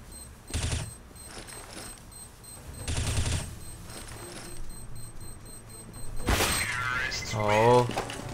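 Bursts of gunfire from the game CS:GO, a few separated volleys of shots with mechanical clicks, followed by someone speaking over the game audio.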